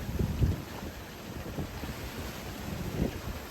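Strong wind well over 30 knots roars across a sailboat on the open sea, a loud, steady buffeting rush with low gusts and water noise and no voices.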